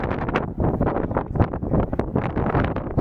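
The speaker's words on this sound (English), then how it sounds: "It's pretty windy up here, so I don't know if you'll be able to hear" Heavy wind buffets the microphone in continuous rumbling gusts, loud and close, high up on the Causeway Coast of County Antrim, Northern Ireland, with no other clear sound coming through.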